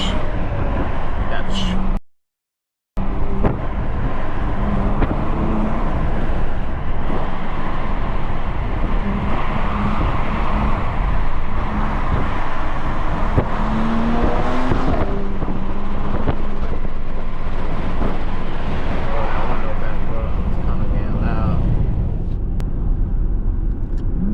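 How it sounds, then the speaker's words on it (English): A 2024 Porsche Panamera 4S with its window down gives a steady, loud rumble of engine and turbo with road and wind noise, briefly cutting out near the start, with someone talking over it throughout. "Man, I hear that turbo, man. That thing sounds nice."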